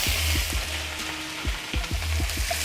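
Salmon frying in butter in a pan, a steady close sizzle with irregular popping spatters repeating throughout, no voices.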